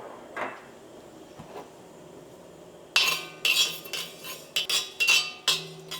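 Fenugreek seeds dry-roasting in a hot pan with no oil: quiet at first, then from midway a run of sharp metallic clinks and scrapes as the spoon stirs and rattles the seeds against the pan, fairly close and with no talking.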